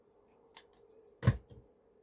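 Scissors trimming papercraft gift box pieces, two quick, close snips with a short pause between, quiet and isolated.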